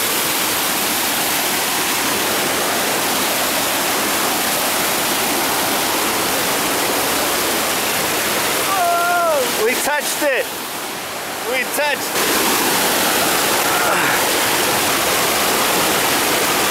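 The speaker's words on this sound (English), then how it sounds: "There goes the waterfall." A waterfall in Yosemite National Park roars in a loud, constant rush of water that fills the whole clip, with a brief burst of voices partway through.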